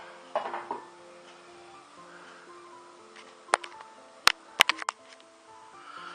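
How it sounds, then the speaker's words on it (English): A lid goes back onto a pot of simmering Japanese brown beef curry, giving a few sharp metallic clinks and taps over a faint background hum. No voices. "Pop the lid back on."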